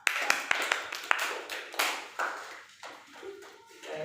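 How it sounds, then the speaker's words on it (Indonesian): Classmates give a student a short burst of applause during a practice teaching lesson in a classroom, with sharp claps at first that thin out into scattered taps. "Aplaus untuk Rika"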